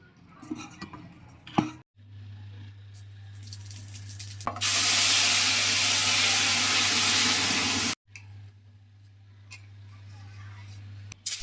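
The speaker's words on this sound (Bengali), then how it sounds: "শুধু জিরা তেজপাতা দিয়ে" Cumin and bay leaf hit hot oil to temper dal, bursting into a loud, hissing sizzle that lasts a few seconds before cutting off, with clinks and a low hum around it.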